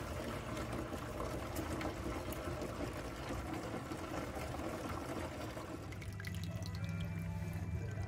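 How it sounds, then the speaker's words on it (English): Coffee porter beer wort drains steadily into a fermenter, a continuous close trickling and splashing of liquid with a faint pump-like hum, the flow thinning and quieting toward the end. "And it's just draining down"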